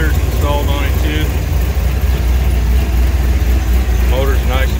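2006 Corvette Z06 fitted with a Corsa exhaust, headers and an aggressive cam, idling with a deep steady low rumble close by, while a person talks over it.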